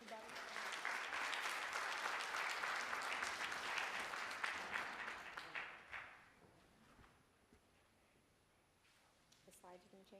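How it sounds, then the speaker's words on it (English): Audience at a citizenship and immigration law session applauds Elizabeth, a full round of clapping that holds for about five seconds, then fades into near silence with faint speech at the end. "Round of applause for Elizabeth."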